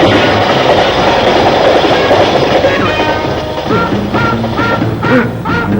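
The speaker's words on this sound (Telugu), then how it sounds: "Bloody train." A train rumbles past close by with a heavy rolling roar and rhythmic clattering of wheels, a few tonal squeals near the end.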